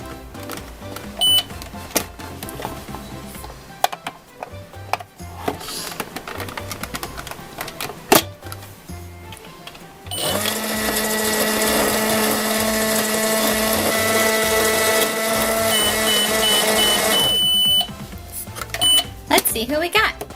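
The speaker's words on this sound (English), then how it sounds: "let's see what happens when we put brown and yellow into our magic microwave" A Play-Doh toy magic microwave clicks and rattles, then runs with a loud, steady electronic hum and tonal buzz for several seconds before shutting off, with a person talking before and after.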